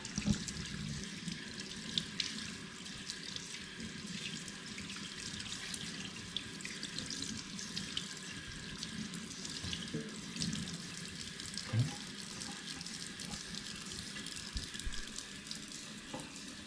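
Tap water runs steadily into a sink while lamb lollipops are rinsed beneath it, a continuous close splashing hiss with occasional small knocks.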